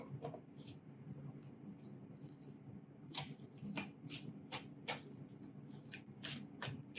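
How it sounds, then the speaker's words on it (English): Tarot-style reading cards shuffled close by in several quick riffling bursts, with soft handling noises between them. "I'm just gonna shuffle it in front of you as well."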